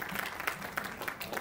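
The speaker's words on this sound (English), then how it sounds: "Well, round of applause." Applause from an audience at a union representative council meeting, a brief patter of clapping heard faintly across the room for about a second and a half, with no talk over it.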